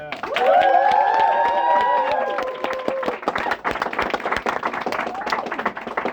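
An audience at a poetry show in Cafe Kerouac breaks into loud, dense clapping with whoops and cheers rising over it early on, then the applause carries on steadily and slightly thinner to the end.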